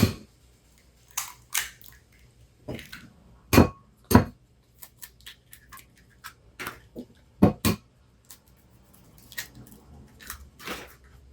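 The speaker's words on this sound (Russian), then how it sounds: "Отдельно в миску разбиваем 3 яйца." Three eggs cracked into a bowl, a scattered series of sharp taps and clinks against the rim, with small wet sounds between, close and otherwise quiet.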